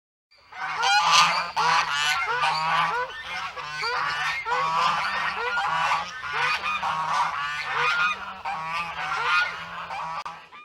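Goose honking on a farm, a dense run of loud, harsh nasal honks repeating steadily for about ten seconds with no talk.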